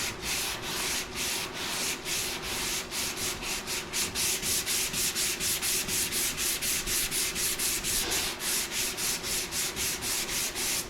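Hand sanding on the driver-side hood of a 1941 Chevy truck restomod, steady back-and-forth rubbing strokes in a quick regular rhythm, close and continuous throughout with no talking.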